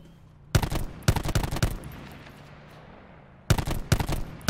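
Bursts of automatic gunfire in Call of Duty Black Ops 4 Blackout, two separate volleys of rapid shots, fairly loud and close, with a quieter stretch between them and no talk.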